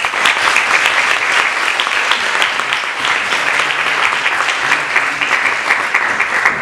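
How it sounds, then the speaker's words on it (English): A large audience applauds to welcome a guest onto the stage at a conversation event on slow fashion, loud, continuous, dense clapping sustained throughout. "So a huge round of applause to welcome Hoda on stage."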